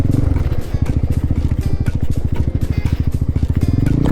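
A small Honda CB motorcycle rolls over cobblestones and loose gravel, and the engine's fast rhythmic pulsing and rumble come through close and loud with a rattling edge.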